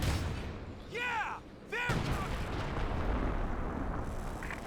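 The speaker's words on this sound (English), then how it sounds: "Grenade, no dodge." A grenade goes off during a Company of Heroes 2 World War II battle, a dull boom amid dense, continuous combat rumble and gunfire, with whistling shells and a commentator talking over the action.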